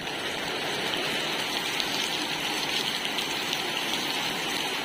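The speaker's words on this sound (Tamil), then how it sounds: "மழை நல்லா பெஞ்சிகிட்ருக்கு" Heavy rain pours steadily onto a tiled roof and ground, a dense, even hiss with no breaks, close and fairly loud throughout.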